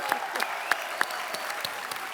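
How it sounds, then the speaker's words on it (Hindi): Studio audience applause on a Hindi comedy talk show, a brief scattered burst of claps, moderately loud, with no talk over it. "डॉक्टर साहब के लिए जोरदार तालियां।"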